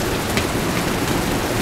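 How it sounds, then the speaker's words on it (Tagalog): Heavy rain pattering and hissing steadily on a roof beside a building during a downpour, a dense, even wash of sound with no voices. "Narinig nyo, karuskos ng ulan. Sa bubong yan."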